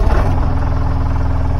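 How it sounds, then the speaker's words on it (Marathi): A loaded tempo van idles loudly and close, its engine giving a steady low throbbing rumble with a regular pulse as it gets ready to leave, in rural Mangaon, Raigad. "आपला टेम्पो आता निघतो आमचा,"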